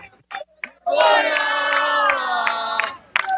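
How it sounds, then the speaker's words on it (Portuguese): Angry football supporters chant in protest outside with military police riot troops standing by, a loud massed unison shout of many voices ringing out after a few short isolated yells. "Brigada militar, o choque colocado e a torcida protestando"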